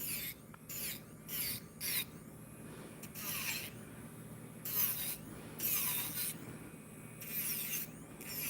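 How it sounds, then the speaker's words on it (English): A small electric nail drill with a fine bit whirs in short on-off bursts on acrylic nails, faint and high-pitched, pausing between each run. "This is a fine drill bit."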